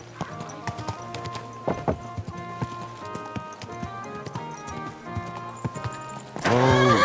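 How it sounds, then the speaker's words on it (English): Horse hooves clip-clop steadily in the medieval Bohemian world of Kingdom Come: Deliverance II, mixed with game music and a brief whinny. A loud burst near the end briefly swamps the hoofbeats. "Easy, good horse."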